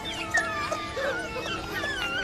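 African wild dog puppies whimper and yip in a run of thin, high, wavering cries, close and fairly quiet, several overlapping calls with no talking.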